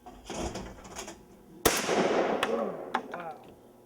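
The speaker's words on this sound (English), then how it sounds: "Shoot skeet." A shotgun fires once at a skeet target outdoors, a sharp loud crack followed by a fading rumble, with people talking and exclaiming around the shot.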